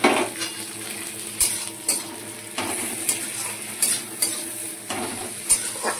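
Slit green chillies, tomato and crushed garlic fry in a pan while a metal spoon stirs them. Steady, rhythmic scraping strokes of the spoon against the pan repeat over a continuous close sizzle, with no talking.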